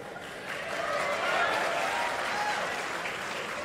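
An audience at a Sadhguru talk in Kurnool claps steadily, a modest crowd's applause swelling slightly and holding at an even level throughout.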